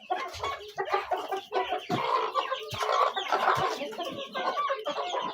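Broiler chickens mixed with local breeds cluck and chatter nearby on a small farm, a busy overlapping stream of clucks and squawks throughout.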